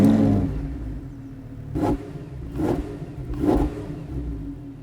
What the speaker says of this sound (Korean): 람보르기니에서 가장 이제 기본 모드라고 할 수 있는 스트라다 모드에서 시동을 걸어보도록 할게요